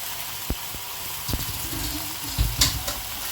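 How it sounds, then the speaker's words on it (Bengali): Kabuli chickpeas tipped into a pan of well-fried spice masala with a touch of sugar, giving a steady close sizzle with a few sharp clatters and splashes as they land and are stirred. "মশলাটা আমার কষে গেছে এখন দিয়ে দিলাম কাবলি ছোলাগুলো"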